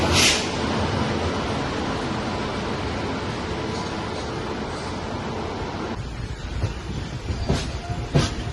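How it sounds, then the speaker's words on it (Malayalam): A train rumbles past with a continuous roar and rattle, with sharper clacks and bumps near the end. "അവിടെ നമ്മുടെ ട്രെയിൻ"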